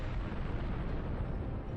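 A ship explodes in the space game Star Trek Online, a dense, sustained roaring blast of broadband rumble that holds steady and loud for under two seconds with no voices.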